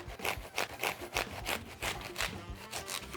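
A sharp knife saws through a tough artichoke in quick back-and-forth strokes, a rhythmic rasping scrape repeated about ten times, close and fairly quiet with no talking.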